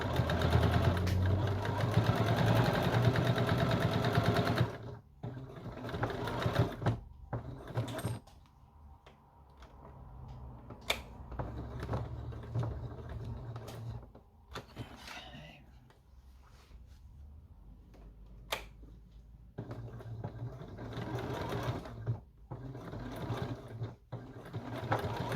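Sewing machine stitching a fabric apron, running loud and steady for the first few seconds, then stopping and restarting in short bursts with quiet gaps and soft background noise as the work is turned.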